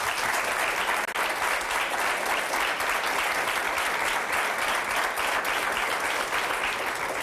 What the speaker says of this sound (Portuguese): Ela merece uma salva de palmas.